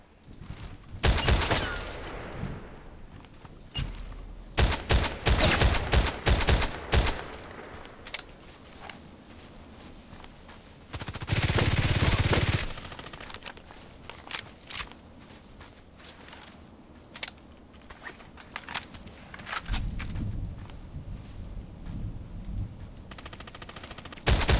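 Gunfire in a sniper video game with an SVD-S rifle: loud bursts and single shots crack in clusters, a dense volley early on, a long roaring blast near the middle, then scattered shots, clicks and rattling handling sounds.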